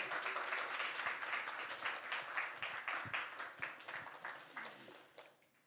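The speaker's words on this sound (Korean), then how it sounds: "환영의 박수로 맞이해 주시면 감사하겠습니다." A church congregation at a worship service claps to welcome a guest pastor, a dense, steady patter that gradually thins and dies away at the end.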